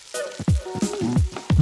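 Salmon and cod fish burger patties fry in a hot pan, a close, steady sizzle broken by repeated crackling pops and spits of oil; no one speaks.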